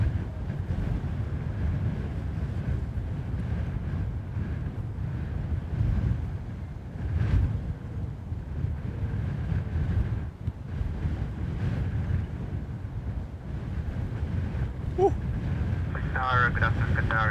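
Steady wind buffeting an outdoor camera microphone at an airport runway, a constant low rumbling roar filling the whole stretch with brief gusty swells and a faint distant radio voice near the end.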